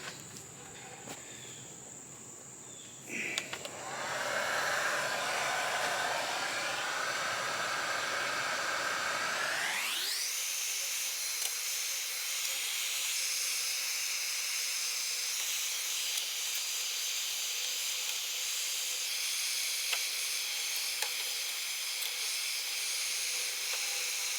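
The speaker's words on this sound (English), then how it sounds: "Heat gun?" A heat gun blows hot air during work on a Mustang, starting with a faint hiss, then rising in pitch as it spins up at about ten seconds and holding a loud, steady whooshing roar close by for the rest of the clip.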